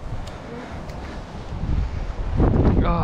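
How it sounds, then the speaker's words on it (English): Strong storm wind howls through a night in the UK, a steady blustery rumble buffeting the microphone that swells louder toward the end, with no voices. "It's a stormy night. This storm is 10th storm in the UK."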